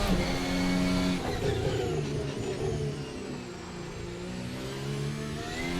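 A Formula race car engine in the Assetto Corsa sim racing game roars and accelerates at high revs with DRS open at Spa-Francorchamps, its pitch climbing through gear changes, loud and close with no talking.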